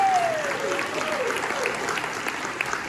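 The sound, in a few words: crowd applauding the state chairman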